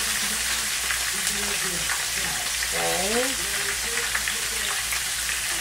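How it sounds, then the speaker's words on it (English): Flounder frying in hot oil gives a loud, steady, dense sizzle throughout, while someone speaks briefly over it. "You hear it sizzling?"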